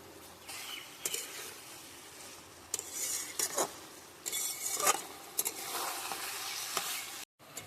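Potatoes and pointed gourd sautéing in a pan, a soft continuous sizzle broken by repeated scraping strokes of a spatula against the metal, coming in irregular bursts, close up with no talk.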